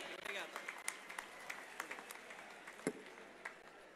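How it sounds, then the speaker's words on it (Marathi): Loud audience applause at the Chief Minister's inauguration of the Shasan Aplya Dari government outreach event in Pachora: a dense, steady patter of many hands clapping throughout, with a public-address voice speaking over it. "जोरदार टाळ्यांचा गजर व्हायला पाहिजे"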